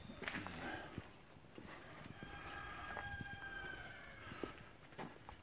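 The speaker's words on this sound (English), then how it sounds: "Yep, you can hear the rooster." A rooster crows at a distance on a farm near an old covered bridge in Waynesville, Ohio, its faint drawn-out calls carried over an outdoor background with scattered knocks and rustles.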